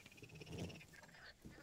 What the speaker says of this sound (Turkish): Tam doğanın içindeyiz. Kurbağa sesleri.